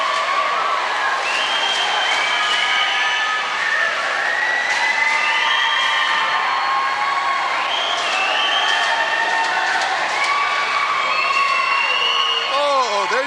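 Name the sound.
hockey crowd cheering at the Sungod Arena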